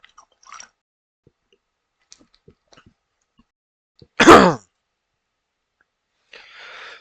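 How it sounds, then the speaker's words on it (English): One short, throaty burp erupts mid-clip, loud and close, with quiet gaps around it and a brief breathy rustle afterward. "Okay, that was a burp that had some rice cake in it."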